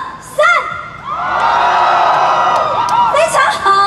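A large outdoor concert crowd at the 2022 Taipei Lantern Festival screams and cheers loudly in a sustained roar, with sharp whoops rising at the start and end.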